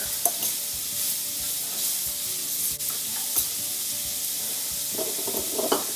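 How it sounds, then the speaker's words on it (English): Shredded mozzarella worked into cauliflower in a bowl, producing soft, steady stirring and scraping strokes close by, an even mixing rhythm with no talk. "So I'm going to put that in the bowl with the cauliflower, and I'm going to incorporate that together"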